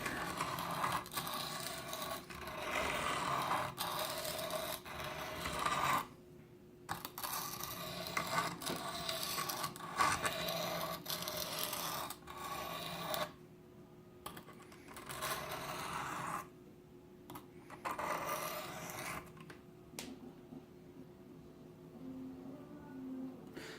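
A knife is drawn across the 400 grit stone of a Smith's Tri-Hone sharpener in repeated scraping strokes, a fairly quiet gritty rasp broken by short pauses between passes.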